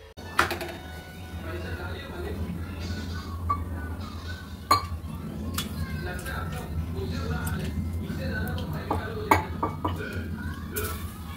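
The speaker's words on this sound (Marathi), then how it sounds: "त्याच्यानंतर त्याच्यावर ठेवायचं झाकण" Metal cookware clinks and clatters on a home stove as a lid is set onto a cooking pot, with a few sharp knocks standing out over a low steady hum and faint background voices.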